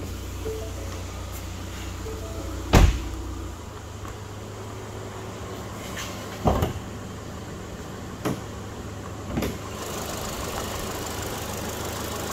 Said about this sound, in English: We'll go ahead and we'll pop the hood, let you listen to this one run.